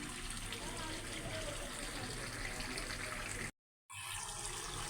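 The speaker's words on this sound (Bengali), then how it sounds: "এখন পানি দিয়ে দিই।" Water pours into a pot of chicken being cooked down, a steady gushing rush that cuts off abruptly, then the hiss resumes briefly.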